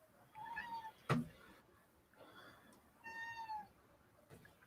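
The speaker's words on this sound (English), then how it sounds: "My cat was just messing with the door again." A house cat meows near a door, three or four drawn-out, fairly close cries spaced across a few seconds, with a sharp knock or rattle between the first calls.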